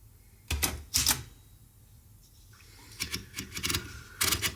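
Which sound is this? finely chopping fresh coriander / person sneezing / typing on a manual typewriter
typing on a manual typewriter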